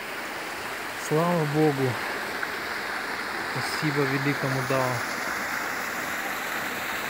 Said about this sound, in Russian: Я люблю этот прекрасный водопад, эту горную речку.